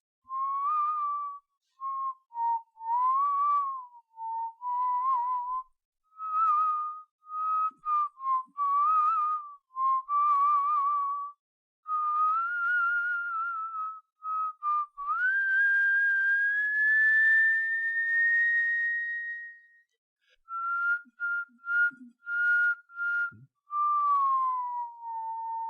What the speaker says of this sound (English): began whistling